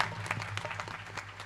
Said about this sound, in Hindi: जोरदार ताली बजाई उनके लिए।